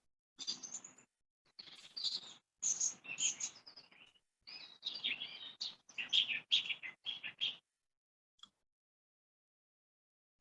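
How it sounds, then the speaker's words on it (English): Birds chirp in quick bursts of high, bright tweets, several short phrases in a row with brief pauses, fairly close and with no talking. "I can hear birds chirping."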